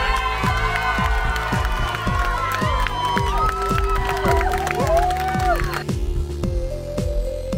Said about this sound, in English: The crowd's getting bigger because all the bladers are finally arriving